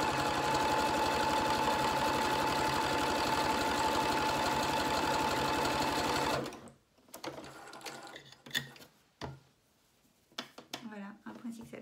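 A sewing machine sews a zigzag stitch while a cardigan is made, a steady close mechanical whir for about six seconds that then stops, followed by a quiet room with brief speech.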